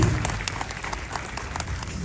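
Applause from an audience at a second foundation day celebration in Bharoda, honouring a daughter, fills the clip as a steady spread of claps at moderate level, with no talk over it.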